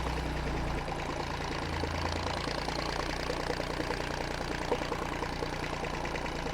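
A 1959 Fordson Dexta tractor's diesel engine running steadily on the road, a loud, close, knocking chug with even rhythm throughout.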